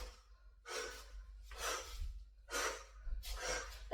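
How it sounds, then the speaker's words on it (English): Slow, deep yoga breathing, close and airy: four long breaths alternate inhale and exhale in a steady rhythm, each swelling and fading, with no talking. "And we're going to add some breath."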